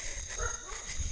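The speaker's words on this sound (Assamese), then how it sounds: "কুকুৰে ভুকি আছে" A dog barks faintly in the distance against a noisy, hissing outdoor background in the early morning.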